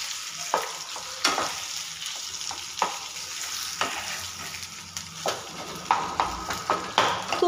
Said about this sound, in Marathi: त्या टायमाला आपण ह्याच्यात मॅश केलेलं पोटॅटो टाकतोय आपले, व्यवस्थित मिक्स करून घ्यायचे